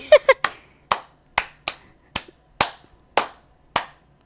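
About nine crisp hand claps in a quick, uneven patty-cake rhythm, close and dry, with no talking.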